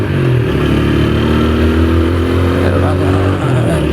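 A TVS Apache RTR 160 4V motorcycle overtakes a car on a road, its engine droning loud and steady up close with wind rush throughout.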